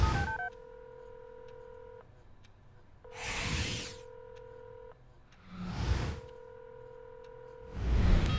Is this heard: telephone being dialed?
yes